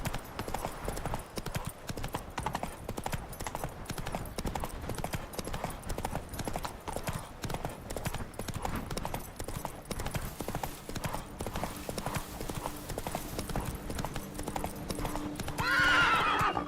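Horse hooves clip-clop steadily at a gallop in The Witcher 3, a continuous rhythmic beat throughout, with a clear neigh near the end.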